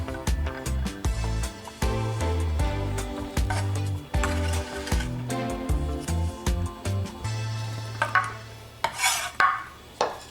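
Chimichurri sauce ingredients are stirred and scraped in a bowl, a rapid run of close, rhythmic rasping strokes and taps ending in a few slower scrapes, with no talking.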